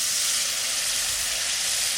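Water hits a hot pan of fried onion, tomato and spices for rohu fish jhalda, giving a loud, steady hiss and sizzle that holds evenly for about two seconds.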